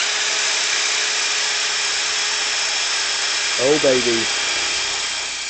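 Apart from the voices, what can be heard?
Worx WX355 power tool running at speed 2, 2100 RPM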